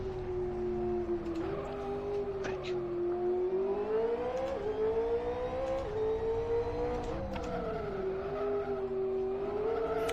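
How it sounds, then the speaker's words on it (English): Engine drone from a racing car in the Live For Speed video game, a steady harmonic hum rising and falling in pitch with the revs, loud and continuous without a break, with no talk over it. "No, it's a car noise coming through his microphone."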